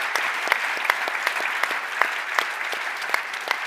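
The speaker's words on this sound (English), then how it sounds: "applause for the laureates" A crowd applauds the research prize laureates at an award ceremony, sustained and steady clapping with a few sharper individual claps standing out, with no voices over it.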